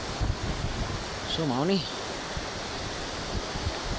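Wind and rain roar as a constant broadband hiss during Typhoon Tino flooding, with a voice briefly speaking over it.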